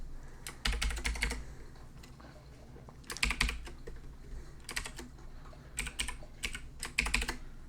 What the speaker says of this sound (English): I typed that in and it works.